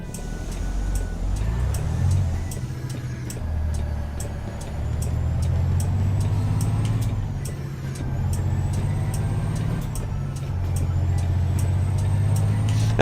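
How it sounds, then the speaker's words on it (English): A Detroit diesel engine drives a truck in American Truck Simulator, a low steady rumble droning throughout with shifts in pitch, plus faint regular ticking clicks above it. "This has got a diesel Detroit engine"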